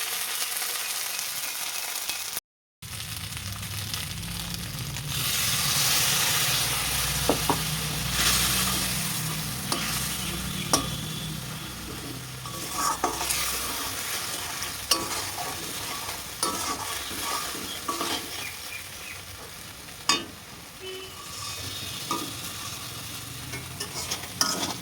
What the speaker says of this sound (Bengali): এদিকে দেখো আলুটা মশলা দিয়ে একটু কষিয়ে নিচ্ছি